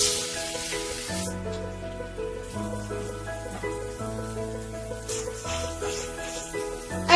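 Pieces of taro root (arbi) sizzle in hot oil in a kadai, giving a steady close hiss with crackle that sits beneath prominent melodic background music.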